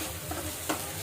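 A spoon stirs turmeric into curry in a hot oily pan, continuous sizzling frying with a brief scraping stir, close and steady.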